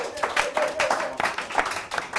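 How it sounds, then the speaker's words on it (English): A small group claps along for an album track at a listening session, a few uneven bursts of hand claps at close range, with faint voices in the background. "let's clap it up for that joint right there."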